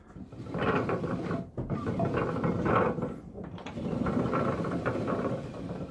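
A wooden steampunk wall-art mechanism of gears and a pulley turns while a door opens, giving a steady, close mechanical whir and ratcheting clatter with a brief pause near the middle.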